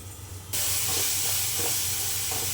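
Tomatoes cook covered in a pan for a village-style fish curry, a loud continuous steamy hiss that jumps up suddenly and holds steady with faint low rumble beneath.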